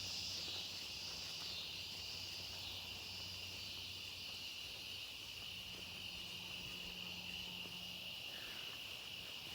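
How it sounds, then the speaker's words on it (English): Crickets and other outdoor insects keep up a dense, continuous high-pitched chirring drone, loud and steady throughout, with a low hum underneath and no one talking. "what the fuck's all these bugs making these noises, man?"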